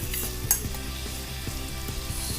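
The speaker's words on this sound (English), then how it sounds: "So fry the Karela nicely in the masala." Karela, bitter gourd, frying in masala in a pan, a steady close sizzle with a few light stirring scrapes and one sharp clink near the start.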